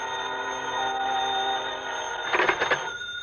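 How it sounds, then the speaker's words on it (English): A telephone bell rings in a phone booth in a radio drama, a short burst of bright metallic rings near the end over a steady tonal hum. "I waited in the phone booth until Jim called me back"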